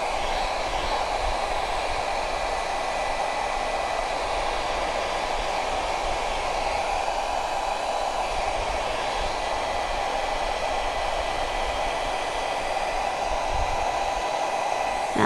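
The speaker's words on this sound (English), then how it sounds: "Now I did get a new blow dryer" A new blow dryer blowing cold air runs steadily and loudly nearby as a constant whooshing hiss that lasts throughout without any change, with no voices.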